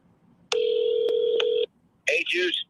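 Phone dialing tones on a callback attempt: one long steady two-tone beep followed by a shorter burst of tones, loud and close, with a faint murmur underneath.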